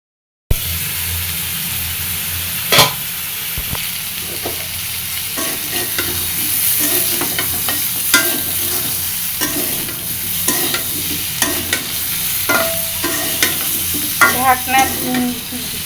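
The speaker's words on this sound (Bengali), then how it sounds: "ঢাকনি দিয়ে ঢেকে ঢেকে ভালো করে ভেজে নিতে হবে" Chili, coriander and cumin powder fry in a pan while being stirred, with a loud steady sizzle and repeated scraping strokes of the spoon, plus occasional sharp clinks. No one speaks.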